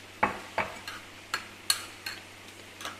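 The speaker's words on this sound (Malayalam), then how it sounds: "ഇനി ആവശ്യത്തിനുള്ള തൈരും കൂടെ ചേർത്തിട്ട് മിക്സ് ചെയ്യാം." Curd being mixed into chopped ginger in a bowl for a ginger-curd salad, a series of sharp spoon taps and scrapes at an uneven pace, fairly close against a quiet background hum.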